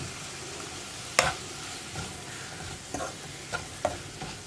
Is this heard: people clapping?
no